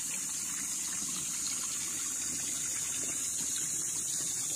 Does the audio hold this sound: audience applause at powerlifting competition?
no